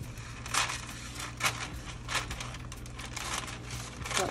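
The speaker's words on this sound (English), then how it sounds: "I'm just gonna go in with my scissors." Crisp snipping and crinkling of paper being cut, a series of irregular close cuts with rustling in between.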